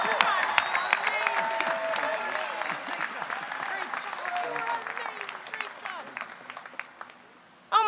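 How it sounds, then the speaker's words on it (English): A large crowd at the 2023 CSUN commencement ceremony applauds loudly, the dense clapping gradually thinning and fading over several seconds before a brief sharp burst at the end. "let's get another round of applause for Thomas and Rebecca"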